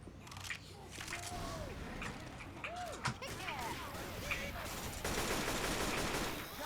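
Gunfire in Left 4 Dead 2 Versus mode, a dense run of rapid shots crackling without pause and under excited player talk, thickening toward the end.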